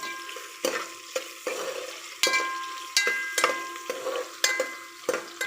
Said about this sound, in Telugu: ఆయిల్ వేసాక బాగా కలుపుకోవాలి